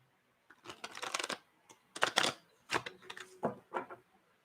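Tarot cards being shuffled by hand close up, several quick riffling bursts of papery flutter separated by short pauses, quiet and crisp.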